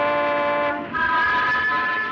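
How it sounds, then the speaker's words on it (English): A train horn sounds loudly in sustained harmonic blasts, the pitch shifting partway through as one held tone gives way to another, with no voices over it. "Chasing that train, Hugh Drummond."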